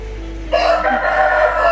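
A rooster crows loudly and close by in a single sustained call, over a steady low background hum.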